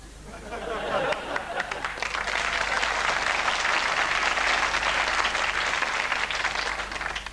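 A studio audience at a TV comedy show bursts into loud, steady applause that rises quickly and holds for several seconds, with a little crowd noise mixed in.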